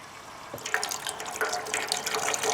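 Gasoline poured into the tank of an old Gravely power brush that sat ten years in a shed, a steady close liquid trickle and splash running throughout.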